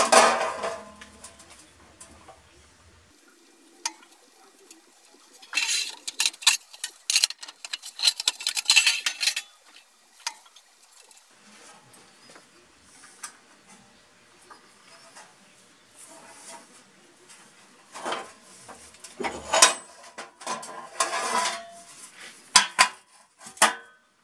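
Sheet metal tabs on a tool tray being worked on a box and pan brake, heard as bursts of metallic clanks and rattles separated by quieter stretches.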